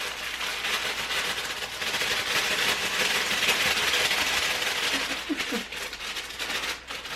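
A KitchenAid stand mixer beats cake batter with a steady, fairly loud whirring drone that holds for the whole stretch, with no talking over it.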